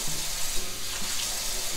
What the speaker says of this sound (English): And I'm just gonna fill it up.